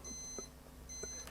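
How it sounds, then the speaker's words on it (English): Olympus OM2 film camera running its battery test, giving two short, thin electronic beeps about half a second apart, close and clear over a quiet background. "when we do the battery test, we get a little beep"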